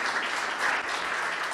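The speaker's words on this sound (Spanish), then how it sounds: "Vamos a darle un aplauso" Audience applause at an academic conference session, a sustained even burst of many people clapping in a hall, moderately loud and uninterrupted without voices.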